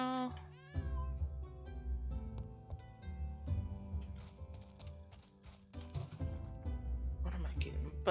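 A cat meowing in the tavern-management video game Travelers Rest, as a few short, fairly faint mews set over game music and ambience, with talk mixed in.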